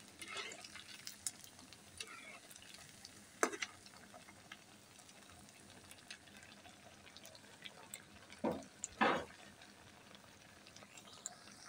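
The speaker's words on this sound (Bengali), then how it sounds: "এই পিঠাগুলোকে উল্টিয়ে পাল্টিয়ে ভালোভাবে করে ভেজে নিব।" Semai pitha frying in oil over medium-low heat make a faint, soft sizzle, broken by a few louder scrapes and clatters as the pieces are turned, with no voices.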